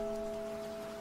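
Steady rain patter from a rainy-day Animal Crossing music track, soft and continuous with faint sustained musical tones running underneath.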